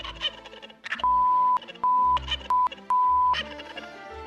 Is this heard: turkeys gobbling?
yes